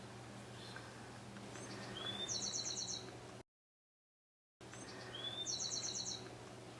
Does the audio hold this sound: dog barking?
no